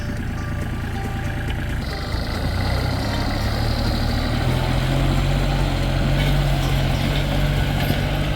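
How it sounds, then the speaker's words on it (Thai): A used three-cylinder Kubota farm tractor engine runs steadily at idle, a continuous low diesel rumble with a slightly rising tone partway through, close and loud with no talk. "เครื่องยนต์ก็จะเป็น 3 สูบนะครับ"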